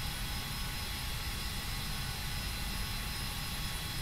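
Steady jet engine whine and roar from an Embraer Phenom 300 taxiing in Flight Simulator X, a continuous even drone with no voices over it.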